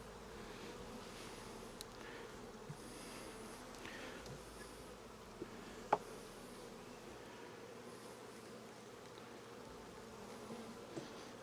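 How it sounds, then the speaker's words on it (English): Honeybees buzzing densely inside a packed hive box during a Demaree split, a continuous low droning hum heard close up with occasional small clicks. "This is really solid with bees."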